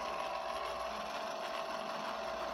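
A Ham IV antenna rotator motor turns counterclockwise, giving off a steady mechanical whir and gear hum at close range, constant and even for the whole stretch.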